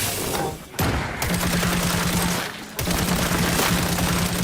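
Rapid automatic gunfire from a gun in Cyberpunk 2077, two loud sustained bursts separated by a short pause, close and dense with a steady mechanical rattle.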